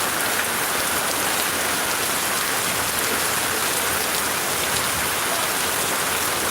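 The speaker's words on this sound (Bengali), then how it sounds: "প্রচণ্ড জল বৃষ্টি এই এরকম যদি বৃষ্টি থাকে" Heavy morning rain pours down in a constant, loud hiss of drops striking surfaces, steady and uninterrupted, with no speech.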